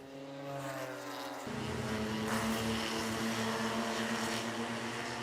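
Porsche Spec Boxster race cars battling for position pass on the track at Watkins Glen, a steady engine drone that thickens as the cars close in, moderately loud and continuous without talk.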